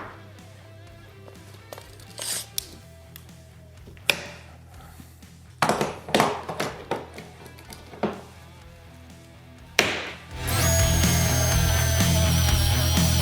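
Drilling wood with a Forstner bit for a table build: scattered clunks and handling knocks give way to a loud, steady whirring power-drill cut near the end, close up, with no talk.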